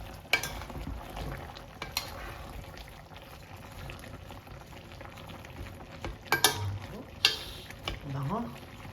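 Pinakbet vegetables with malunggay pods stirred in a pan, giving several scraping, clattering strokes against a soft simmering background, close and fairly quiet.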